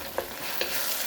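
Shrimp sautéing in a hot pan with ketchup and hot sauce gives a soft, quiet sizzle. Two brief scrapes of a stirring utensil punctuate it about half a second apart.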